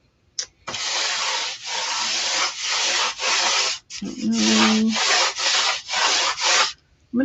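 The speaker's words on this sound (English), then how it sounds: "I'm going to give it a little bit of a sanding just because it's not very smooth." A wooden faux pallet sign being sanded by hand: close, rhythmic back-and-forth rasping strokes, about ten in a row with short breaks between them, and no voices.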